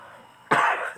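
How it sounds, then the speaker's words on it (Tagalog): A single sharp cough bursts out suddenly and loudly close to the mic after a quiet lead-in, then trails off with a rough throaty tail. "Sorry kayo sa inuubo ako."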